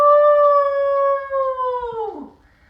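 A human voice imitates a coyote howl, one long sustained tonal wail that holds steady and then drops off at the end, loud and close.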